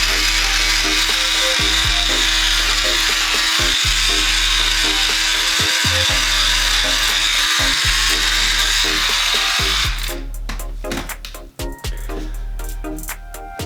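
An electric beard trimmer buzzes loudly and steadily during a rough trim of a full beard, with its tone shifting and sputtering toward the end as it moves against the face.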